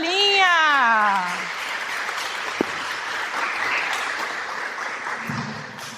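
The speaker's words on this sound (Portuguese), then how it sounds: "Aplausos para a história da folhinha!" At a children's festival workshop, an audience applauds after a story with sustained moderate clapping. It opens with a sliding, meow-like vocal sound, and a single sharp knock lands partway through.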